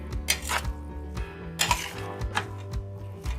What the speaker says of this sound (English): Keep the flame on low to medium, not too much high, not too much low. And we have to keep roasting them.